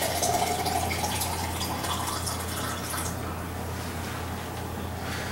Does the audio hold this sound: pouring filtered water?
yes